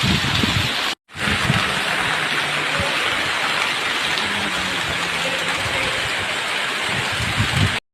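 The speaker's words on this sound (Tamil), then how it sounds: "கோவில்ல இருக்கக்கூடிய அந்த தண்ணீர்லாம், அந்த தேங்குற தண்ணிலாம் எவ்வளவு அழகா வடிஞ்சு போகுது பாருங்க" Rainwater drains away in a steady rushing stream at Madurai Meenakshi Amman temple, loud and continuous after a brief cut near the start.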